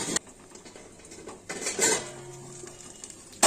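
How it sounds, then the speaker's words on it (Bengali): A lid lifted off a pan in which Bengali tangra fish is being fried, with a few close metallic clinks and a brief rattle, a soft sizzle underneath in a quiet kitchen, no talking. "এবার আপনাদের ঢাকনাটা তুলে দেখাচ্ছি"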